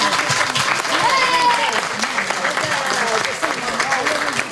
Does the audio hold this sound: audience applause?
yes